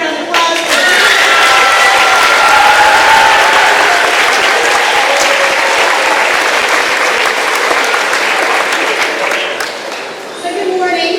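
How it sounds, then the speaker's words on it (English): An audience at a middle school graduation ceremony bursts into loud, close applause that holds steady for about ten seconds before tapering off, with crowd murmur beneath the clapping. "let's give them one more round of applause"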